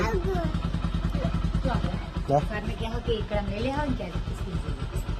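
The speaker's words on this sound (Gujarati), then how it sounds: "બાઇક થોડું ગરમ કરી લઈએ." A motorcycle engine idles with a steady low, throbbing putter while people talk over it nearby.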